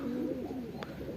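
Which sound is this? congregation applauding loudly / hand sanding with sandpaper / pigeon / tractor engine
pigeon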